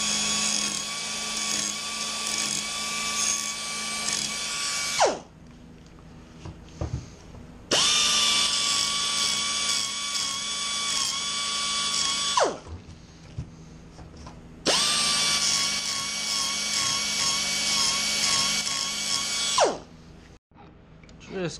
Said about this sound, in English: I'm gonna use this little 2-inch grinder here.